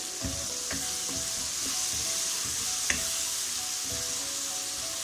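Green chillies frying in hot masala for an achari baingan (spiced aubergine pickle) recipe, with a steady close sizzle and occasional stirring scrapes of a spoon in the pan, no talking.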